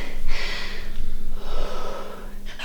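Heavy, loud breathing right after a set of squats during an intense leg workout: two or three deep gasping breaths drawn in and pushed out close to the mic, with a snort-like edge and no talking.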